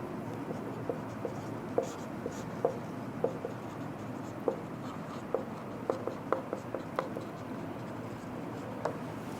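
Pen or marker strokes writing out a chemistry equation during an ionic equilibrium lesson, a series of soft taps and scratches spaced irregularly, faint and close, with no talking.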